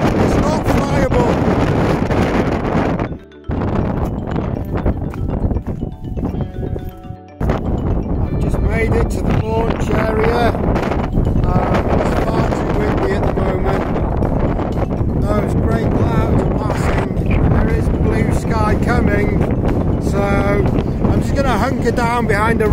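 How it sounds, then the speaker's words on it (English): Gusty wind roars across a hilltop in Conwy, pounding the microphone with loud, continuous buffeting and brief lulls, while a person talks loudly over it. "I have to shout now in the wind"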